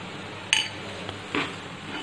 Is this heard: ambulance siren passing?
no